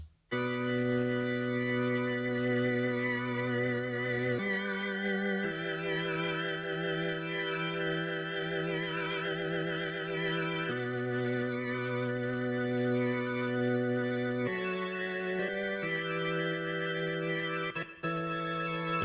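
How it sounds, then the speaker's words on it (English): Sustained instrument notes played through a Walrus Audio Julianna chorus pedal sound full and shimmering, with a gentle wavering modulation across a slow sequence of held pitch changes, loud and alone without talk. "And now I'll turn the Julianna on."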